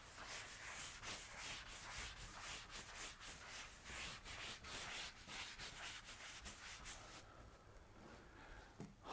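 Chalk or marker writing being rubbed off a classroom board during a teaching lesson, a steady run of close, repeated scrubbing strokes that continue for several seconds with no talk.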